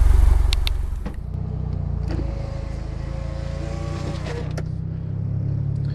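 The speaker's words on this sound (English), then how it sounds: "heading out for a drive in the Ralliart first" Mitsubishi Lancer Ralliart car driving, heard as a continuous low engine drone from inside the car with a rising whine in the middle as it accelerates, then settling back to a steady hum, with no voices.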